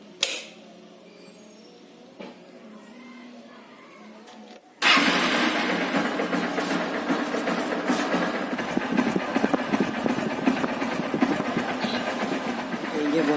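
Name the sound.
Honda X-Blade motorcycle engine running with squeaking noise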